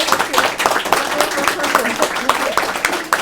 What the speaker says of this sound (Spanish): Sol Blanco Soler, un aplauso muy grande para ella, por favor.